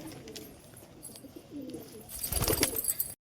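Domestic pigeons kept at home coo softly in short rounded phrases, quiet at first and growing louder and busier toward the end, with light rustling around them.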